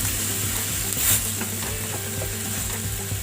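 Chana masala with yogurt being stirred in a pan, the spoon scraping and clattering over a steady sizzling hiss, close and fairly loud, with no voices.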